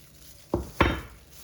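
Spoon stirring Korean-style carrot salad with sugar in a bowl, heard as two short knocks against the bowl close by, over a quiet background.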